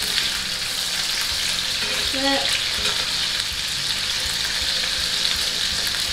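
Short ribs sear in a hot pan while being flipped, a loud, continuous crackling sizzle with brief scraping stirs near the middle, and a voice speaks a word over the frying.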